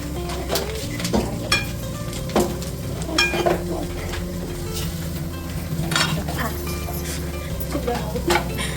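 Cashews tipped into a sizzling pan of ghee for ghee rice, a close crackling fry punctuated by sharp clinks and scrapes of a spoon against the pan, with people talking over it.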